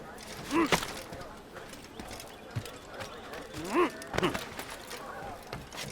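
Horse hooves clip-clopping in the video game Assassin's Creed on Xbox 360, a few scattered hoofbeats with a horse snort amid ambient game sound and someone talking.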